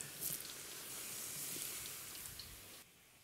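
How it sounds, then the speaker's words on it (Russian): Potatoes sizzling as they fry in hot oil in a kazan, a soft steady hiss and crackle, faint and close, with no talk, fading at the end. "картошка не теща, пусть шипит."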